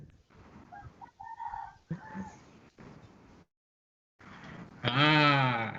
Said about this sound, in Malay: Ada ayam kat luar.